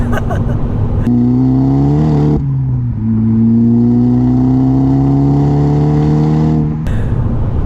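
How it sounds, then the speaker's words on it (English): A tuned 300 bhp VW Golf GTI Edition 30 engine revs up loud and close, its pitch climbing as it accelerates, drops briefly at a gear change, then climbs again. "it revs up very quick, doesn't it?"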